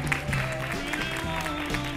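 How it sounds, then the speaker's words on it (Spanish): Studio audience applause on a Spanish-language sewing competition show breaks out in a steady wash of clapping, mixed with music and some crowd noise, fairly loud for the whole brief moment. "Un aplauso para Sofía"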